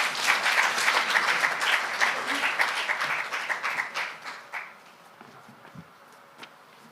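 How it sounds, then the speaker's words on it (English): Audience applause at the closing ceremony of an academia-public-private partnership forum in Rwanda, a dense, steady clapping from a room full of people that fades after about four seconds into quiet room noise with a few stray claps. "Another round of applause to our guest of honor for the closing ceremony."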